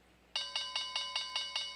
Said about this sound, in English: The bell has now gone and we're after hours. That bell is a bit quiet.